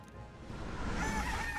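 A large bird creature in the video game Metaphor: ReFantazio gives a harsh, swelling call that grows louder and brighter over a second and a half, heard alone without talk.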